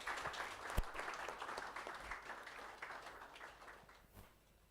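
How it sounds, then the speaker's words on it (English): Summit audience giving a round of applause, a dense, fairly faint wash of clapping from a hall crowd that gradually tapers off toward the end. "Let's have a huge round of applause, please."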